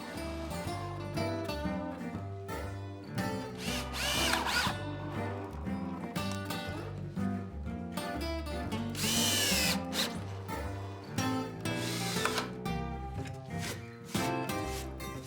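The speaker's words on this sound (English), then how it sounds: "First, boring pilot holes, then driving in weatherproof screws." Power drill boring pilot holes and then driving weatherproof screws into deck boards of a grilling prep station, heard as repeated close bursts of whirring and high motor whine, separated by short pauses.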